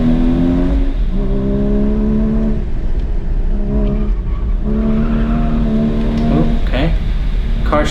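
A Porsche GT4 (981) on an autocross course, engine loud and close, rising and falling through repeated revving pulls between shifts with hints of tire scrub as the car slides, while a voice talks over it.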